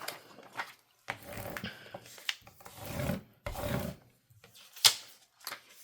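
Scraping tool rasping across cut vinyl from a Cricut Joy Xtra craft project, heard as several short close scrubbing strokes separated by brief pauses, with no talking.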